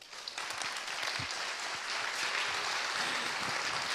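An audience at a fan convention talk on The Walking Dead applauds with sustained, dense clapping that stays loud throughout.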